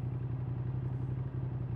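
A Yamaha XSR700 XTribute motorcycle engine runs at a steady idle, a low, even, pulsing hum that stays faint and continuous with no one speaking.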